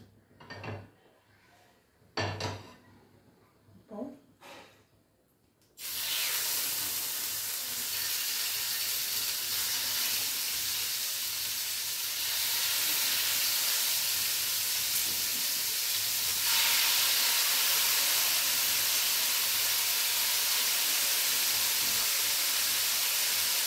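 Chicken pieces hit a hot pan and burst into a loud, steady hiss that swells and holds for many seconds after a few quieter clinks and knocks of cooking prep.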